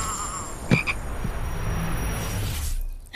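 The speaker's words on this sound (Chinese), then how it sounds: "臭蛤蟆" A frog or toad croaks in a brief, close double call over a steady low ambient hiss, with no one speaking.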